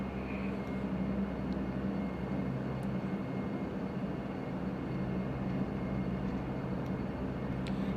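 A De Havilland Q400 airliner in a flight simulator game spools up for takeoff, its engines giving a steady, loud, droning rumble with a faint whine that runs unbroken throughout.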